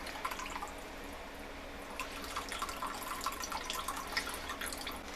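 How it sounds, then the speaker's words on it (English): Shiitake mushroom soaking water is poured into a yakisoba sauce, a faint steady trickle with light splashing and dripping, quiet and close with no talking. "I'm going to add the shiitake mushroom water to the sauce here."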